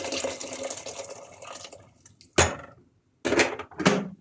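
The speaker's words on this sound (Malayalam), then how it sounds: "നമുക്ക് ചൂടുവെള്ളം ഒഴിച്ചെടുക്കാം." Hot water poured into a cooking pot while making biryani: a steady rushing pour for about two seconds, then sharper splashes and clanks of the pot in separate bursts, close and moderately loud.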